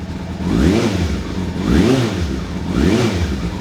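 A 1997 Suzuki GSF600 Bandit motorcycle with the baffle fitted in its exhaust, revved three times in a steady rhythm, each rise and fall of engine pitch loud and close, idling smoothly between blips.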